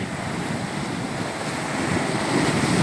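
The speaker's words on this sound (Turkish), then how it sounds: "Bugün Akdeniz kıyılarına geldim. Maşallah bugün denizde coşmuş. Dalgalar hırçınlaşmış." Rough Mediterranean sea surf crashing against shore rocks, a steady broadband roar of breaking waves mixed with wind buffeting the microphone, swelling slightly louder toward the end with no voices.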